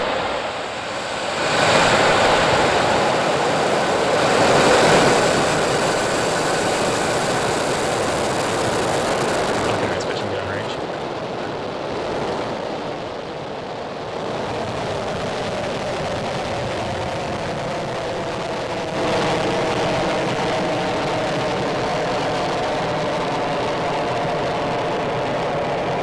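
Falcon 9 rocket engines ignite at a Starlink launch: a broad, distant roar swells, dips, then settles into a sustained rumbling thunder that carries on without speech.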